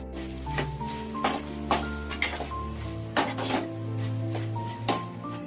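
Ginger garlic paste fries with onions in a pan, a steady sizzle under repeated close scraping and stirring strokes of a utensil against the metal, with a faint tonal hum in the background.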